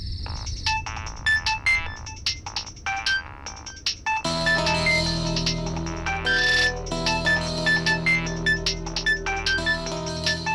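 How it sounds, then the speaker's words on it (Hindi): A phone ringtone plays continuously, a bright electronic melody that grows fuller and louder partway through, with no voices over it. "सृष्टि का इतनी रात को फोन?"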